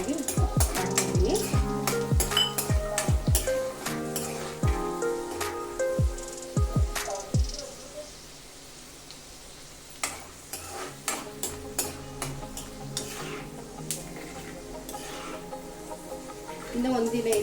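Ingredients for green-chilli puliyogare are stirred and fried in a pan, a spoon scraping and clinking against the metal in quick bursts over a soft sizzle, busier at first and then sparser, with a voice talking at times.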